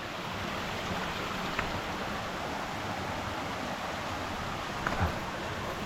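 Steady broadband rush of a flowing stream fills the whole clip, continuous and fairly close, with a couple of brief knocks or splashes.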